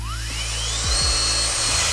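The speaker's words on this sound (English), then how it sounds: "Now let's just drill the starting point into this, but for that I will use like a regular one." A regular power drill boring a starting hole into a DIY case for a fan testing machine, whining steadily and loudly throughout with rising pitch sweeps as it spins up.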